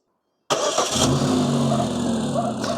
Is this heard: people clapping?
no